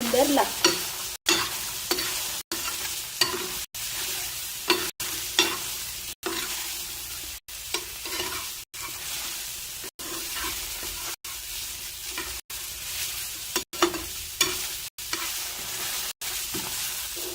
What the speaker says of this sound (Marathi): हे सर्व मी बिगर तेलातच भाजते, तेल बिलकुल टाकलेलं नाही